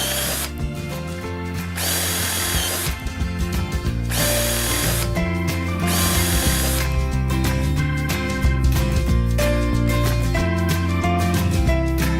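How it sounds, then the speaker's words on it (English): A power drill fitted with a 6mm bit bores drainage holes in the bottom of a wooden garden bird box, its motor whining loudly and continuously in close, sustained bursts. "I'm going to put some drainage holes in the bottom just to keep them dry, and I've got a 6mm drill bit"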